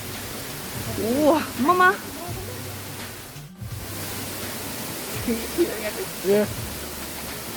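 Steady roar of the Torallie Waterfalls in Soufriere, St Lucia, a constant hiss of falling water close by, with people talking and exclaiming over it.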